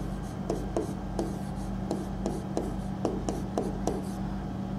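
Handwriting on paper while taking notes about the cell nucleus produces soft, steady scratching with periodic light taps of the pen, close and fairly quiet, without voices.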